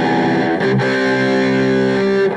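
Oakcaster double-cut travel guitar played through the bridge pickup on an American metal amp setting with reverb, a loud, heavily distorted sustained chord ringing out after a brief re-strike, no voices.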